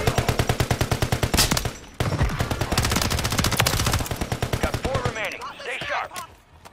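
Rapid automatic gunfire in Call of Duty Warzone rattles in long, loud bursts of evenly spaced shots, then tapers into scattered fainter shots and brief voices near the end.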